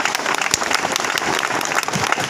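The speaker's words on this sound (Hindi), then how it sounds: "उन दोनों के लिए एक बार जोरदार क्लैपिंग हो जाए" An audience claps loudly for two guests, a dense burst of many hands with a few sharper slaps standing out, continuous and close throughout.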